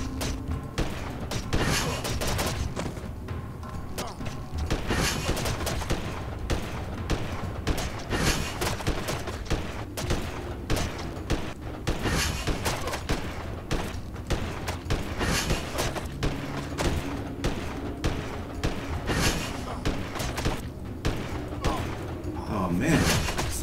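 Repeated gunshots fired at a bug creature in the video game Windforge, sharp thuds and bangs coming in irregular bursts throughout, with someone talking over the shooting.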